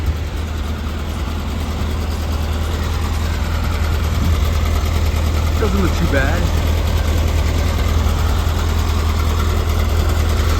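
A 1971 air-cooled VW engine with a new stainless steel header and dual quiet muffler idles steadily with a deep, low rumble throughout, and a person speaks briefly over it partway through.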